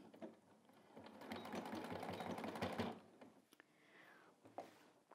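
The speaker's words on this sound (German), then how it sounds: "um sie dann unter die Nähmaschine zu führen" A sewing machine stitches a seam on a blouse in a steady, fast, close run of needle strokes for about three seconds, then stops, leaving a few faint handling clicks and rustles.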